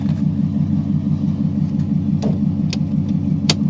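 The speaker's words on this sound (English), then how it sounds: "Maybe it just has an aggressive muffler." A car engine idles with a loud, deep exhaust rumble from a muffler and loose, partly unattached exhaust pieces, a steady low throb with a few faint clicks and knocks.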